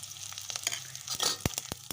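Mustard seeds sizzle in hot oil with chilli and chopped garlic, a crackling spatter with sharp popping bursts over a couple of seconds.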